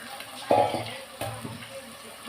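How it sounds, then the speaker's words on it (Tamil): Water with tamarind splashes and swishes inside a mixer jar being rinsed, brief sloshing bursts over a faint background hiss. "இப்போ இந்த மிக்ஸி ஜாரில் இந்த புளியை கரைச்சி ஊற்றி கழுவிக்கலாம்."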